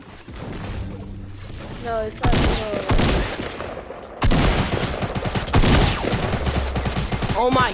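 Bursts of rapid SMG fire in a PS4 shooter, loud and close dense rattling volleys in several runs, mixed with other gunshots and crashes, with someone talking over parts of it.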